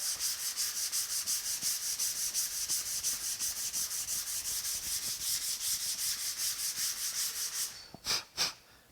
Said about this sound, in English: Let the sandpaper do the work instead of you forcing it down into a groove or a low spot.